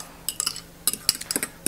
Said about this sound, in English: you're gonna use a fork, and you're just gonna stir it up real well